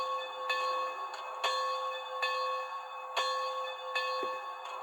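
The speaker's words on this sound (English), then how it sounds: "let's do function number 1, which is the bell" A Bachmann Spectrum HO scale 2-10-2 USRA Light Santa Fe steam locomotive model sounds its bell, a steady, faint, evenly spaced ding repeating about every second over a constant electronic hum.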